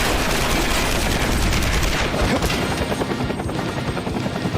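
Helicopter in the video game Persona 5 Strikers, loud rapid rotor chopping that dominates throughout, with dense noisy rumble and pulsing beats.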